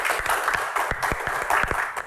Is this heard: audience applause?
yes